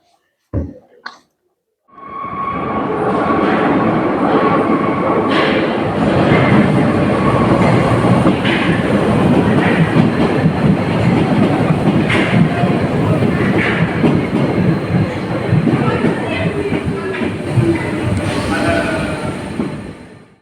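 A brief click, then a metro train rolls into a station loudly and steadily, wheels rumbling and clacking with occasional squeals, sustained for the whole stretch.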